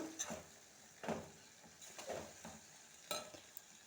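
A capsicum and tomato curry is stirred in a pan, with about five quiet scraping spoon strokes spaced roughly a second apart over a faint, steady sizzle.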